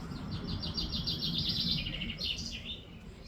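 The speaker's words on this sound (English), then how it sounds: "she's communicating with the other birds" An injured bird calls out toward other birds outdoors in a rapid series of high, bright chirps, followed by a few more scattered notes over soft background ambience, with no voices.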